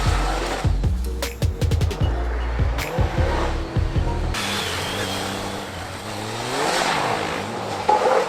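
A battered, spray-painted motorcycle engine revs hard under heavy throttle, loud and near, its pitch climbing and falling in surges with sharp transients early on and a rougher, wavering drone afterward.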